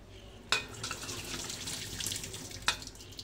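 Hot water is drained from a pot of boiled pasta, a continuous rushing splash into a sink with two sharper clanks of the pot, close and fairly quiet.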